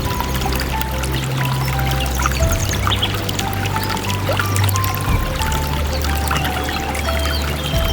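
A forest stream in a British woodland flows over stones, a steady continuous wash of running water that stays loud and even throughout with no voices.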